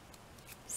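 Scissors snipping through paper while cutting out a stamped craft piece, a soft, quiet rasp of blades with a sharper snip at the end.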